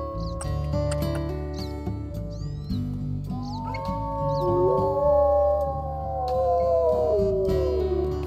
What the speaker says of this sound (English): Back to the constant howling of the pack.